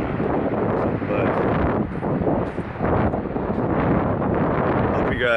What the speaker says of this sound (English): I'm sorry if it's really windy